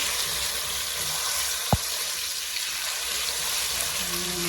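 Garlic paste fries with curry leaves in a pan for chicken gravy, giving a steady, close sizzle with one sharp click partway through.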